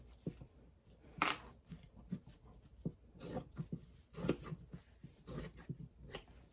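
Scissors snip through fabric being cut to cover a Dollar Tree container, with scattered short cuts and rustles that sound faint and close in a quiet room.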